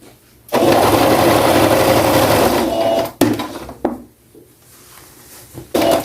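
Sewing machine runs in a steady, loud burst for about two and a half seconds while stitching bias binding onto a gathered blouse neckline, then short stops and restarts follow with quieter handling of the fabric.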